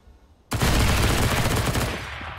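Sudden loud burst of gunfire in a Counter-Strike match on the Train map, starting abruptly and holding as a dense, sustained crackle for almost two seconds before easing slightly.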